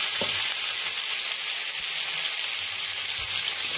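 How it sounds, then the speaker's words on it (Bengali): Chopped pumpkin, potato, flat beans, peas and carrot frying in oil tempered with cumin seeds, a dense even sizzle with a few soft low knocks from stirring and no talking. "এবার সবজিগুলোকে একটু ভাজা ভাজা করে নেব।"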